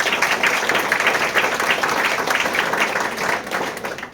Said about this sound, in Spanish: Fuertes aplausos también.